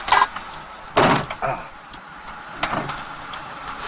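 Car doors thump shut several times during a police pursuit of a stolen car, giving sharp, close knocks at irregular spacing, with muffled voices and vehicle noise around them.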